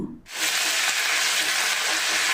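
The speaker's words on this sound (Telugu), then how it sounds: "అల్లం కొద్దిగా వేగాక 6 ఎండుమిర్చిని వేసుకొని ఒకసారి అంతా కలుపుకొని 2 రెమ్మల కరివేపాకు వేసుకున్నాను" A tempering of ginger, dried red chillies and curry leaves hits hot oil, and after a brief quiet moment a loud, close sizzle bursts in and holds steady.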